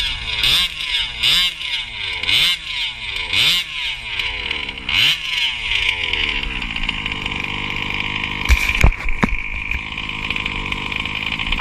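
A Baja mini bike engine with a hole in its exhaust pipe revs up in five rising bursts, then settles into a rough, raspy idle, close and loud, with a couple of sharp clunks near the end.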